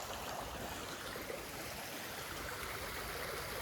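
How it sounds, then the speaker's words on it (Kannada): Continuous rushing water with a broad, steady hiss, like a flowing stream heard nearby during heavy rain, with no voices and no breaks. "ಇಲ್ಲಿ ನೋಡಿ ಯಾವ ಥರ ನೀರು ಬರ್ತಿದೆ"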